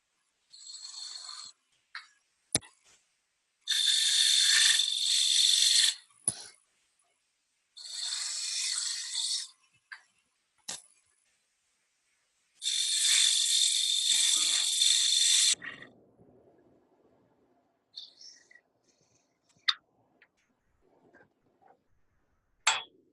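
A skew chisel makes a peeling cut on ash wood spinning on a lathe, giving several bright, harsh scraping hisses lasting a few seconds each, separated by silence and a few sharp clicks.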